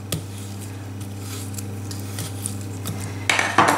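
Cooked vegetables being stirred into sauce in a dish, with wet squishing and a utensil clinking and scraping against the dish, close and fairly loud, building to a louder burst of clatter at the end.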